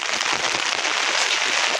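Heavy rain pours down outdoors in a dense, continuous hiss that stays loud and even throughout, with no voices over it.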